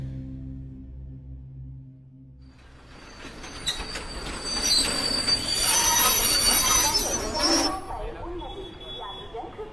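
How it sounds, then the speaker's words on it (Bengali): A train pulls into a station, its wheels squealing loudly with a long metallic screech that builds and then fades over rumbling rail noise, after a quieter stretch of low hum. "স্টেশনে আসতেই একটা ট্রেন ঢুকলো।"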